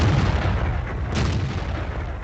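A Jagdtiger 88 tank destroyer's main gun firing in a tank video game, heard as a loud, dense booming roar that fills the whole short stretch, with a renewed burst partway through and no voices.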